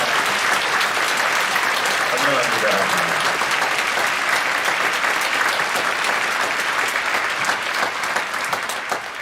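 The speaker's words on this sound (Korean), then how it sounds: "인터넷으로 들으시는 분들 격려하는 박수 한번 치겠습니다" A church congregation applauds at a Friday night worship service, a dense, loud and sustained clapping that carries on for several seconds and fades slightly at the end, with a voice briefly speaking over it.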